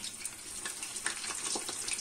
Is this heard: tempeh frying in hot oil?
yes